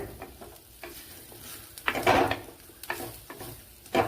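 Sautéed onion with coconut stirred in a pan for fish curry: soft frying sizzle under repeated scraping and clinking of a spoon against the pan, quiet and close with no talk.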